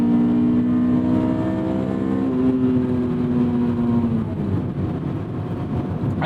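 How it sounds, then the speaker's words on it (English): A Honda S2000 AP2, stock apart from an aftermarket intake, gives a loud, steady induction and engine drone with strong harmonic tones that hold level before the pitch slides down and fades into road rumble. "This car is bone stock except for the intake, as you can tell from the induction note."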